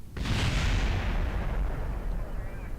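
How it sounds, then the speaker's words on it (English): A spacecraft crash explosion in the Kerbal Space Program video game: a loud, sustained, rumbling blast that bursts in abruptly, then rolls on and slowly thins out over a few seconds, with no talk. "Hey, it wasn't as bad an explosion as I thought."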